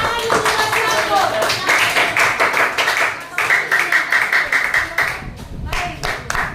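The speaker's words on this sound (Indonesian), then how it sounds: "tepuk tangan dulu, buat Atun." Students in a secondary-school math classroom clap together in steady bursts, loud and close, with a short pause partway and voices mixed in.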